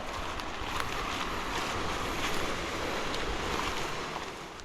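Broad, rushing wash of sea waves and wind on the west coast of Puerto Princesa, steady and loud throughout, like waves breaking against a boat at sea.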